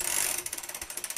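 A Shimano Sora R3000 rear derailleur on a bicycle gives off rapid, evenly spaced ticking clicks, like a ratcheting freehub, close and fairly quiet, with no voices.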